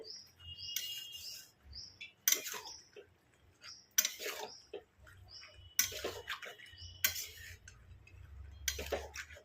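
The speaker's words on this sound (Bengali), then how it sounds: "জোরে আঁচ করে একেবারে মশলাটাকে এই ছোলার আলুর সঙ্গে কষিয়ে দিচ্ছি" Black chickpeas and potatoes stirred and fried with spices in a pan over high heat, a spatula scraping in soft, regular strokes in a quiet room, with faint bird chirps in the background.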